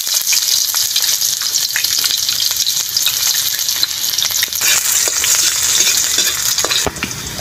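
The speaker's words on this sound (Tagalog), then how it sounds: "Ating poset, igisa lang po natin." Squid, garlic and onion sauté in a hot pan with a steady, loud sizzle and frying crackle, broken by occasional stirring scrapes and no voices.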